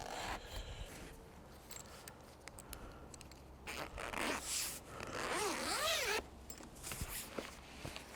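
A zipper on an EcoFlow portable power station's carrying bag is pulled open in several short, scratchy strokes, close up, followed by a longer rasping zip and some rustling.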